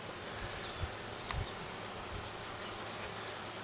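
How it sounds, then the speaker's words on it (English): Faint, low buzzing of package honeybees hovering nearby during hive installation, quiet and continuous, with a couple of small knocks. "A few bees came out with her."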